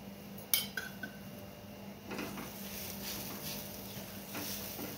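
A spoon clinks against a steel pot while stirring garam masala and sugar into cooking dal, a few sharp metallic taps early on, then softer scraping and stirring sounds close by with no talk.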